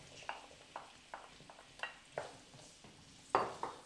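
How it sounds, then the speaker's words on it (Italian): Diced asparagus is stirred into wilted onion in a pan for Bassano asparagus risotto, a series of soft scraping, clinking strokes of utensil against the pan over a faint sizzle. "Andiamo ad aggiungere l'asparago, la parte centrale dell'asparago che abbiamo tritato e abbiamo tagliato a cubetti"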